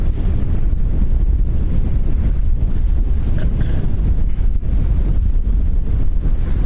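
Strong wind at Lanzarote Airport in the Canary Islands roars and buffets steadily against the microphone, a loud, constant rumble with no break and no talking.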